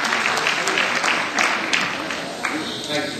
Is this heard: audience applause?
yes